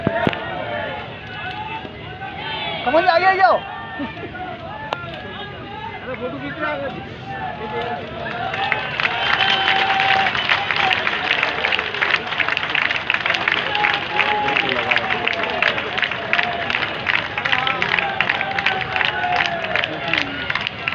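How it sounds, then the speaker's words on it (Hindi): Voices and a crowd murmur give way to loud, dense applause that swells midway and continues steadily, with talk faintly underneath, at a statue unveiling ceremony. "जोरदार तालियां"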